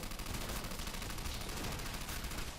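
Rapid automatic fire from a Tommy gun in a custom Call of Duty Zombies map, a dense, loud, continuous burst of gunshots running throughout without pause.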